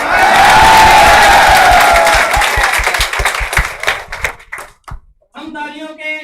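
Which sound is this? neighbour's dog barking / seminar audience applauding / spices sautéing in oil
seminar audience applauding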